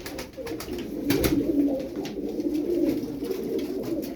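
Turkish tumbler pigeons keep up a steady, close, low cooing throughout, with several birds' soft throaty calls overlapping.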